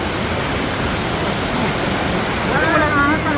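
Waterfall at Pugo, La Union, rushing water roars as a steady, loud, dense wash throughout, with a brief faint voice near the end.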